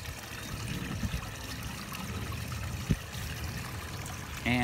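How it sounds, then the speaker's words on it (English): Livewell container lowered into a backyard pond, water trickling and gurgling steadily at close range, with a brief splash near the middle. "So what I'm gonna do first is I'll just put that in the pond and let that sink down."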